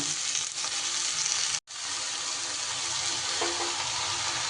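Peeled bottle gourd cut into large pieces goes into a pan with a little hot oil and tempering spices, and a loud, steady sizzle of frying continues close by after a brief break.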